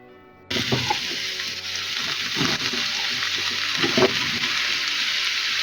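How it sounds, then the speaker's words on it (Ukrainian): Carrots hit hot oil with a sudden loud sizzle that settles into steady, crackling frying, with occasional pops throughout. "Далі в розігріту олію відправляємо морквочку."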